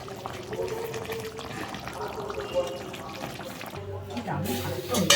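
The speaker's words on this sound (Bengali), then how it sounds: "আমাদের চিকেন রেডি হয়ে গেছে এবার ঢেলে নেব" Cooked chicken curry (chicken kosha) being poured from a pot in a home kitchen, a soft wet pouring and trickling with a brief splashy stir of movement near the end, steady and close under a low background hum.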